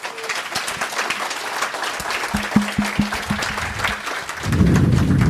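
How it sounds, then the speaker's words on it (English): Audience applause after a talk on authentication and authorization with JWT and Passport, dense steady clapping throughout with a few louder claps, swelling near the end, with a faint tone briefly sounding beneath. "please give a big round of applause to Artur"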